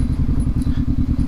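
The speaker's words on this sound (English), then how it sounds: "look at the little KLX in front of me go" A 1995 Kawasaki KLX dual-sport motorcycle rides along single track, its engine thrumming in a steady, rapid low pulse that stays loud and close throughout.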